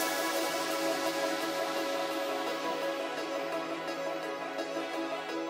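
Layered synth shots, a tonal shot stacked with another synth hit, form a dense sustained chord in a melodic drum and bass production, holding steady and loud before fading slightly.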